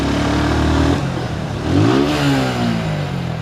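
A motorbike on a village road accelerates hard to overtake, its engine note climbing sharply in pitch, close and loud over steady road noise.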